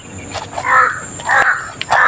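Several harsh crow caws ring out in short bursts, one after another, fairly close and loud, with brief pauses between calls.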